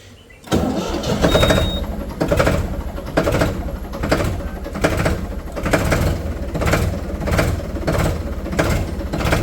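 An old refurbished tractor engine starts up and runs outdoors, a loud, close, steady rhythmic diesel-like chugging with regular pulsing beats after a brief quiet lead-in, with no voices over it.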